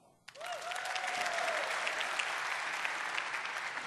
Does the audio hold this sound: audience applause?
yes